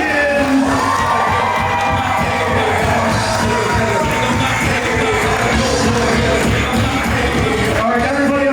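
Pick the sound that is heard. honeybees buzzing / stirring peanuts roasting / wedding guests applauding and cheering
wedding guests applauding and cheering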